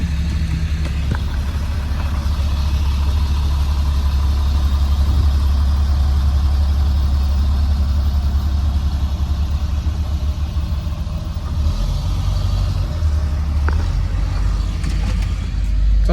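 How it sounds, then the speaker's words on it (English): A truck's heavy engine idles and rumbles loud and close as it creeps forward, a steady low drone with a slight rise in revs near the end, with no talking. "I'm having to move my truck forward."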